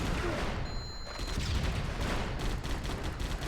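Gunfire in the Die Hard: Vendetta video game, a dense burst of shots over steady game noise, loud and close with a faint voice underneath.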